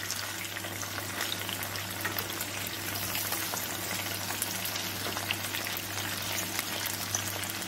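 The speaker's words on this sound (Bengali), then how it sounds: "একটু লাল লাল করে ভেজে নেব।" Chicken pieces fry in oil in a nonstick pan for Szechuan chicken, giving a steady, dense sizzle that stays loud and even from start to finish with no talking.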